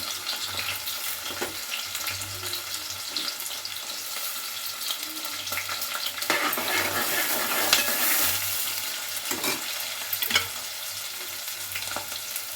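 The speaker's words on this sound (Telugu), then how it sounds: "ఆయిల్ వేడైంది ఆనియన్స్ ముక్కలు వేసుకున్నా" Chopped onion pieces and green chillies fry in hot oil in a home kitchen, a steady close sizzle with occasional stirring scrapes, heard alone without talk.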